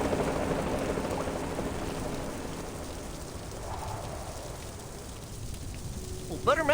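Steady rain patters in the video game Reverse: 1999, a dense, even hiss that fades slightly midway, with brief tonal game sounds near the end.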